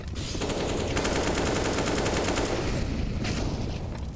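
Rapid gunfire rattles through a Counter-Strike: Global Offensive tournament match, Vitality against NaVi, in a dense, loud, continuous burst of shots lasting several seconds.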